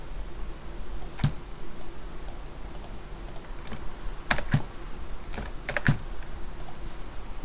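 Close computer keyboard clicks pressed one by one for shortcut commands during graphics software work, as sparse, crisp taps spread irregularly over several seconds against a soft steady background hiss, with no talking.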